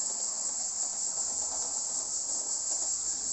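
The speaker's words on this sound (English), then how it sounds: "You can hear the cicadas in the background, they're going crazy." Cicadas chirp loudly in a continuous, high, hissing drone that holds steady throughout, with no other sounds or voices.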